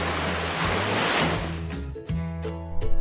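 Sea waves crash and wind roars in a loud rushing wash that fades after a couple of seconds, giving way to steady sustained musical tones.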